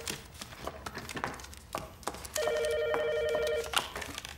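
A telephone rings indoors in a comedy film scene, one steady electronic ringing burst of just over a second against a faint murmuring background, with brief knocks around it.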